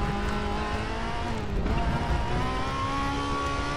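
Onboard engine of a BMW touring race car in a racing sim on the Portimao circuit, loud and close, with a brief lift and dip before the revs climb again in rising harmonic whine.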